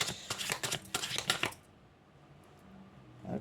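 A deck of tarot cards is shuffled in a quick burst of crisp riffling snaps for about a second and a half, close by, followed by near silence.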